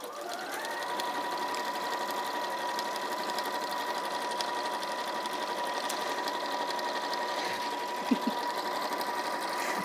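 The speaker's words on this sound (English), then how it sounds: "Because I'm just sewing straight lines, round and round in squares." A sewing machine stitches straight lines around squares on a tote bag, giving a steady, continuous whirring hum up close that runs unbroken throughout, with a faint tap near the end.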